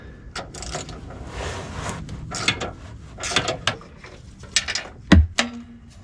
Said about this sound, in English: The step number 2 is removing the transmission crossmember bolts.